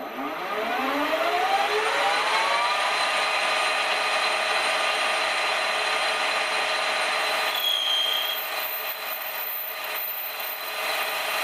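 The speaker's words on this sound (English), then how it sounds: "I'm going to use a 10 mil end mill just to counter bore in 2 mils." A 10 mm end mill spins up with a rising whine and then cuts a counterbore in metal, holding a loud, steady, high-pitched machining tone close by with no speech.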